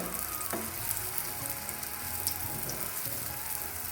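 Snacks fry in hot oil with a dense, continuous crackling sizzle throughout, close and steady, with no talk.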